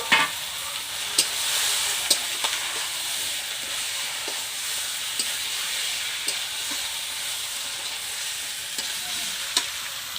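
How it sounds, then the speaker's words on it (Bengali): Chicken meat goes into a pan of fried spices for a village-style chicken curry, giving a steady, fairly quiet sizzle with occasional light clinks of stirring and no talk. "মশলা কষানো হয়ে গেছে, এখন আমি মাংস দেব।"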